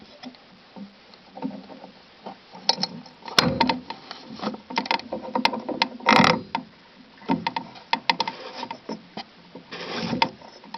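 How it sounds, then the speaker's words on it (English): An old spigot is worked loose from a household water pipe. Close metallic creaks, scrapes and knocks come in irregular bursts as the threaded fitting is wrenched and turned. "we're going to try to just unscrew it and screw the new one in without cutting the pipes"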